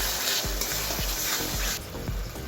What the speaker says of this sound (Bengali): 2 মিনিট মতন আমি একটু একটু কষিয়ে নেব